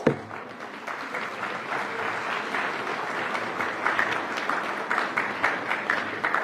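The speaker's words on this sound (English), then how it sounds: "Ladies and gentlemen, a huge round of applause." Steady applause from a sizable audience at a climate week event in Mumbai, dense continuous clapping that holds at an even level from start to finish with no voices on top.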